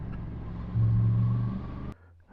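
Exhaust note of a Yamaha MT10 motorcycle on a country ride, picked up by a microphone in a rear pouch: a steady engine rumble that swells into a louder rev for about a second, then drops to a low idle.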